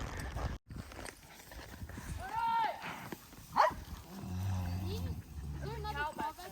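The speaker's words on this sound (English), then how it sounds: "probably that cow of Fenton's that turned back is probably coming" A cow lets out low moos a few times, with horse hooves and rustling around, and people talking nearby.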